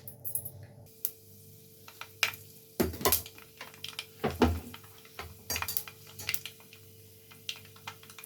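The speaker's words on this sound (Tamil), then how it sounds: "கடுகெல்லாம் பொரியுது" Mustard seeds, cumin and pepper spluttering in hot oil while fish curry is made in a village kitchen, heard as irregular sharp pops and crackles spread across the moment, some louder bursts among quieter ticks.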